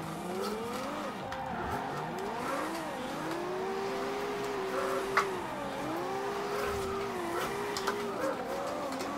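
Car engine revving and tires squealing while drifting in the racing video game Forza Horizon 2, a steady loud engine drone with wavering pitch that climbs and drops through angled slides, with a couple of sharp clicks.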